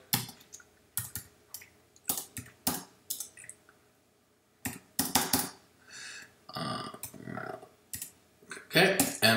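Clicks of a computer keyboard as a command to unzip a file is typed on a Linux machine, coming in short bursts of separate keystrokes with brief pauses, close and fairly quiet.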